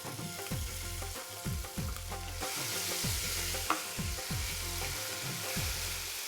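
Garlic paste frying in hot oil with cumin and cinnamon, a steady close sizzle broken by repeated rhythmic thuds and scrapes of a stirring spoon against the pan, with no talking.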